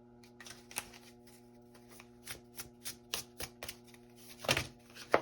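A deck of tarot cards is shuffled up close, a series of quick riffling bursts and soft slaps in an uneven rhythm, ending in a louder flurry, with no speech over it.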